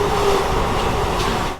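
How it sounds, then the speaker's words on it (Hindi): A sleeper class express train from Saharsa to Sealdah runs through a station without stopping, its loud steady rumble and rattle of carriages carrying on and then easing off at the end. "फिलहाल अपनी ट्रेन जो है वो जानकी नगर रेलवे स्टेशन स्किप मार रही है"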